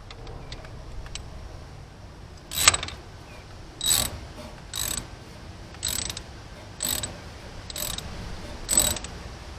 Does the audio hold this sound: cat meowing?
no